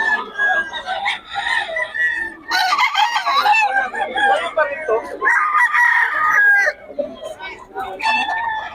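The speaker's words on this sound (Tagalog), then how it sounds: "Nagmurahan na mga manok dito mga idol." Several roosters at a crowded rooster market crow loudly and repeatedly, overlapping one another with clucks between, while people talk in the background.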